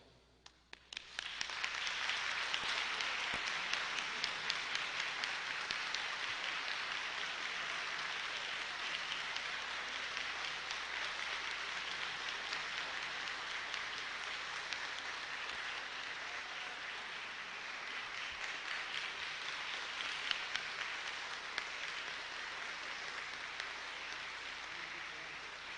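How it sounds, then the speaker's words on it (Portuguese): An audience applauds the 1974 law graduating class at a degree confirmation ceremony at Faculdade de Direito Padre Anchieta, with sustained, steady clapping for about 25 seconds after a few scattered opening claps. "Vamos aplaudi-los, né?"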